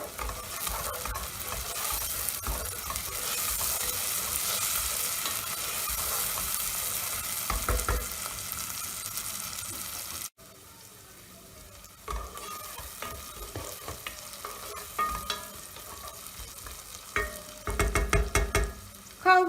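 Tomato and pepper paste sautéing with carrots in a pan, a steady close sizzle with stirring scrapes throughout, briefly quieter midway before the frying picks up again with louder bursts near the end.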